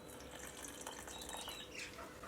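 Water being added bit by bit to pancake batter mix while camp cooking on a motorcycle trip, a steady light trickling and splashing that runs throughout, close and moderately loud with no talk.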